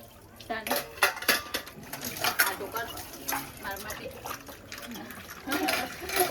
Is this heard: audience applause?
no